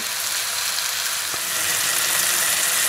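Chicken pieces fry in a pan for a sweet and spicy chicken dish, giving a steady, close, bright hiss of sizzling oil that holds evenly throughout with a brief faint clink partway.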